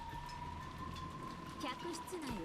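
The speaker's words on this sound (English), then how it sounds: "Even the quiet sound of the rain was distracting." Steady soft rain in the visual novel Umineko When They Cry hisses as a constant, even wash, with faint sustained musical tones running over it.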